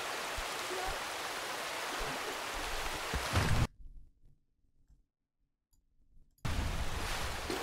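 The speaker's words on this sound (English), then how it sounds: "Holy crap, this water is loud." Loud, steady rushing water from a stream or waterfall in the video game A Difficult Game About Climbing, a dense broadband wash that cuts out abruptly to near silence for a few seconds before returning at full strength.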